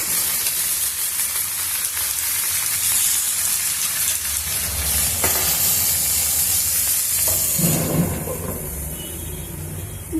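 Sorrel leaves (chukka kura) cooking down in a little oil in a pan for chutney: a continuous loud sizzle and hiss, with a shift toward stirring and softer bubbling near the end.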